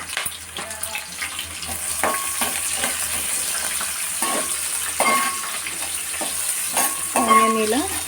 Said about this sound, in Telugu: ఆనియన్ ఇలా కొంచెం బ్రౌన్ కలర్ వచ్చే వరకు అటు ఇటు ఫ్రై చేసుకోవాలి.